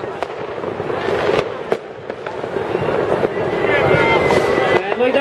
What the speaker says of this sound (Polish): Te strzelające fajerwerki to najlepszy dowód, że Puldo się zbliża.